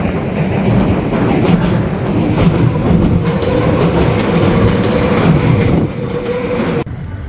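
A train passes close by on a railway beside the Shonai River in Japan, a loud, steady rumble with rattling wheels and faint squeal that drops off sharply at the end.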